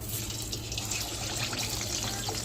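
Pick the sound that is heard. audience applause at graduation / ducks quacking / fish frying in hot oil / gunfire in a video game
fish frying in hot oil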